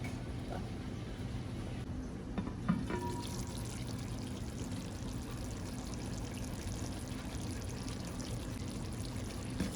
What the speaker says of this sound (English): So now we're gonna add some warm water to this.